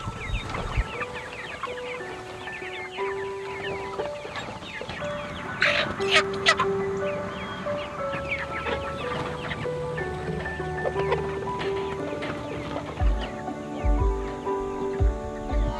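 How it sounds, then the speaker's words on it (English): Homestead chickens cluck and squawk close by as a hurricane approaches, with busy overlapping clucks, a few louder cackles and some people talking among them. "Oh, look at that chicken get out."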